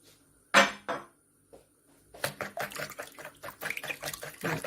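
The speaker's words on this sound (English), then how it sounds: "and then just mix everything together. I think I'll just use a whisk for that one." A whisk beating blueberry muffin batter in a bowl. It starts with a couple of isolated knocks, then turns into a quick, steady run of close clinking and scraping strokes.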